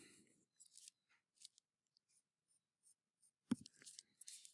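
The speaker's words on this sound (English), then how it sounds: "I'll draw it with my pencil." A pencil draws a line on a piece of wood to mark an angle for a simple truss: faint, short dry scratches spaced across a quiet room, with a louder rub near the end.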